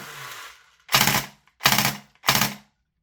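A VFC M249 gas blowback airsoft light machine gun with a high-capacity conversion fires three short, loud bursts with sharp, rapid reports, each about half a second long and separated by brief pauses.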